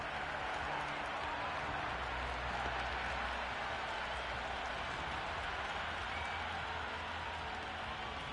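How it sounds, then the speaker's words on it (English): A stadium crowd in the Cricket 26 video game roars steadily through a Pakistan vs Namibia T20 World Cup match, a dense, loud, unbroken wash of cheering with no clear voices on top. "Will you listen to that crowd? They are loving this."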